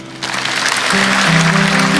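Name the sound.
congregation applause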